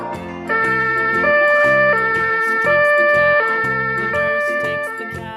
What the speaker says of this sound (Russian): Скорая помощь.